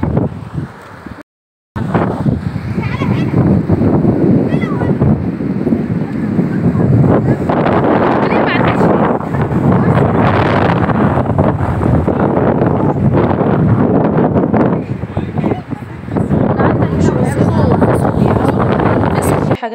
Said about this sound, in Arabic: وهنا الموج عالي